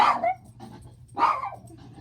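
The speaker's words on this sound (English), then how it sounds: "you'll just have to apologize for my dog." A rescue dog with separation anxiety lets out two loud, close barks about a second apart, each a sharp burst trailing into a brief rough tail, with quiet in between.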